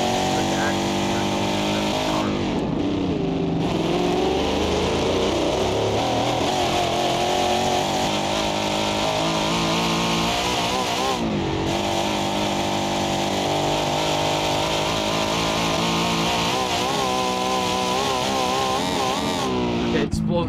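Car engine in BeamNG revs hard and continuously, a loud, close, buzzing roar whose pitch rises and falls in surges, dipping briefly a few times before climbing again.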